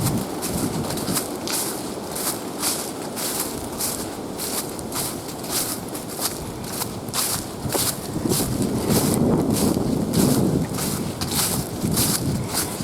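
Wind at a waterfall campground rushes steadily across the microphone, loud and continuous with a rhythmic crunch of footsteps throughout, no voices.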